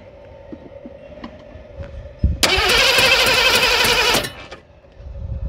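A 1986 Mercury Grand Marquis Colony Park's engine cranks on a jumped starter, a loud, steady, rapid churning that lasts about two seconds and then cuts off, with faint workshop noise before and after.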